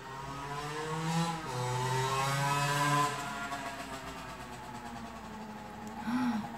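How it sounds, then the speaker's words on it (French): A trial motorcycle passes by on the road, its engine rising and falling in pitch as it approaches and recedes, moderately close and alone with no talk. "Attention, il y a une mobilette qui arrive."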